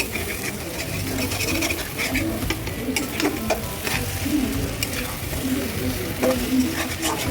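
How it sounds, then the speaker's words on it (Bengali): Okra fried with eggs and spices sizzles in a pan while being stirred, a steady close frying crackle with repeated utensil scrapes, and a bird cooing faintly in the background. "এবার আমি ভেজে রাখা ঢেঁড়সগুলো ছেড়ে দিলাম, দিয়ে মশলার সাথে খুব সুন্দর করে মাখো করে নিচ্ছি।"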